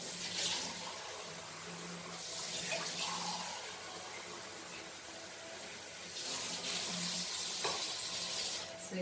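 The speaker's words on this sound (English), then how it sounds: "So here goes 2 cups of water in this." Two cups of water poured into a pan for a Goan beef roast, a steady watery pour with broadband splashing that swells and fades in a few surges over about nine seconds, no talking.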